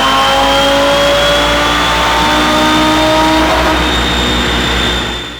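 Audi RS3 running Stage 2 flex-fuel software on Shell 93 pump gas on a dyno, engine revving hard through the gears with rising pitch sweeps, loud and close throughout.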